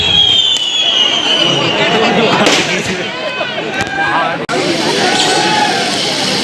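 Fireworks at a Dussehra festival crackle and pop in scattered bursts amid loud crowd noise and an announcer's voice, with sharp bangs standing out over the steady din.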